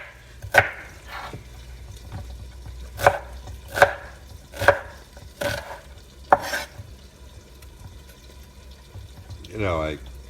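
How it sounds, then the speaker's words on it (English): A knife chops an onion on a board, with about seven crisp, close knocks in an uneven rhythm and a brief pause between bursts. "Chop the onion like this."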